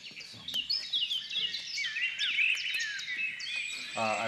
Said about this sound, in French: I recognize that birds are singing